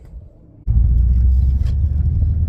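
Modified Subaru Impreza WRX STI with turbo blanket and exhaust wrap starts a test drive. After a quiet moment, a loud, deep engine rumble kicks in abruptly and holds steady and close.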